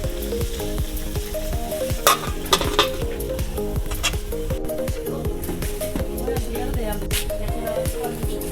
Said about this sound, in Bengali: এই দেশি মুরগির মাংস আলু দিয়ে রান্না করতেছি।